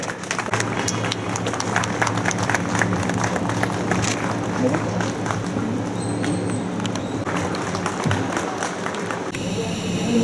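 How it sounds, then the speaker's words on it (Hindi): An audience claps continuously at an Ambedkar Jayanti event to welcome the chief guest; a dense, steady patter of applause runs the whole length, with people talking over it. "सर हमारे चीफ गेस्ट है, हमारे मुख्य महाप्रबंधक है, कृपया कर ताली तो बजाइए"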